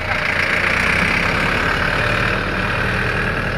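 A tractor engine idles steadily up close, a loud, even mechanical rumble with a continuous knocking texture and no clear change in pace.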